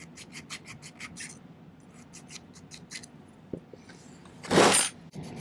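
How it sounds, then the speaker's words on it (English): A silver tension ring setting being hand filed: a quick series of short, crisp rasping strokes close by, a pause with a small knock, then one longer, louder scrape. "I'm going to spend a few minutes filing like this"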